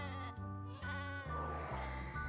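Sheep bleat in the video game Overwatch, several drawn-out, wavering bleats following one another closely, loud and near with no pauses between them.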